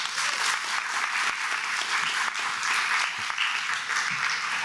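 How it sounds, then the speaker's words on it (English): A room full of people at a school community session for Zane North gives educators a round of applause: sustained, dense clapping that holds steady throughout, fairly loud and close, with no talking over it. "Can we actually give our educators who are in the room another round of applause,"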